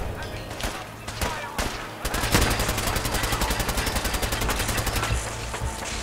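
Turret gunfire in Fallout 4's Nuka World, a loud sustained burst of rapid automatic shots after a few scattered single bangs, close and dense, with game sounds layered underneath.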